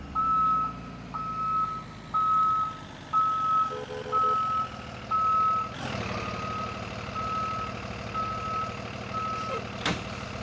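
Bus reversing in the Rigs of Rods driving game, its backup alarm sounding a steady series of evenly spaced beeps over low engine hum, then cutting out as a louder engine rumble takes over.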